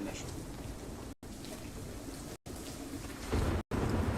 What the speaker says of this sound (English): We have a dynamic weather system, so now it's raining.